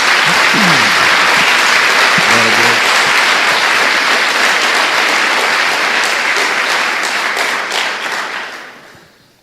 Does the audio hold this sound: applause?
yes